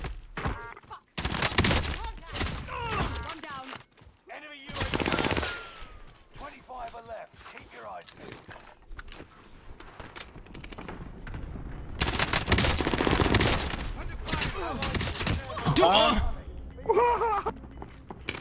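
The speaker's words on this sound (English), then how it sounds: "I'm taking fire." Gunfire in Call of Duty Warzone on Rebirth Island, with loud bursts of automatic fire and scattered shots coming in clusters, and a player talking between and over the shooting.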